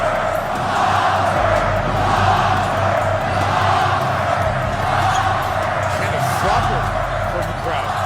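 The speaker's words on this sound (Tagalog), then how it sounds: "marahil mga boss ay naririnig nyo rin ang mga sigaw ng crowd patungkol nga dito kay SGA kung saan sumisigaw sila ng flopper." Basketball arena crowd roars in a continuous, loud wash of shouting and chanting, steady throughout with no pauses, the chant aimed at a player called a flopper.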